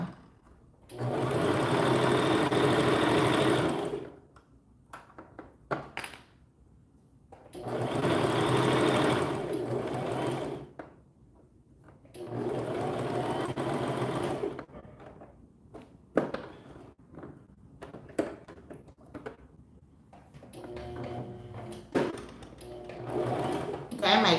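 A sewing machine stitches a beginner summer top in three loud, close bursts of steady running, separated by pauses filled with small clicks and handling noises, ending with back stitching.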